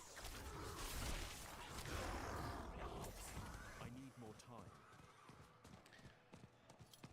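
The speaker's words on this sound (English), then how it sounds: "I love how fast the horse is." Rapid hoofbeats of a galloping horse in the video game Raid: Shadow Legends, with whooshing motion sounds and busy game effects, fairly loud and continuous, easing off toward the end.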